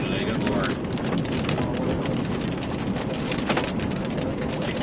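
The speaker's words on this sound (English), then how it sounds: "Excuse the rain on the lens, we'll be out of this rain shortly." Steady, dense rain spatters against a camera lens in a storm with very small hail, a continuous loud hiss of drops hitting close by with no break throughout.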